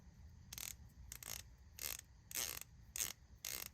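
A palm-grip ratchet, freshly cleaned, oiled and greased, gives about six short bursts of crisp clicking, close and alone, separated by brief quiet pauses as the handle is worked back and forth.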